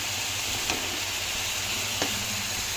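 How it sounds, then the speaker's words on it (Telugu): Two onions ground to paste frying in hot oil in a pan, a steady, loud, close sizzle with two faint clicks of stirring and no voices. "ఎగిపోయిన దాంట్లోనే ఉల్లిపాయ పేస్టు 2 ఉల్లిపాయలు చూసారా, బాగా కలుపుకొని ఇది కూడా బాగా ఏగనివ్వాలి"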